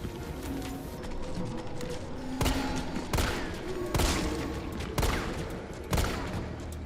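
Gunfire in the zombie survival game Resident Evil 3 Remake: sharp shots ring out roughly once a second, standing out loudly above a steady bed of game ambience.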